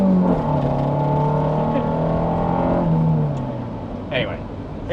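A Honda CR-V of the RD4 generation with all-wheel drive revs its engine as VTEC engages. A strong harmonic engine tone holds and sweeps in pitch, then drops away, heard fairly close.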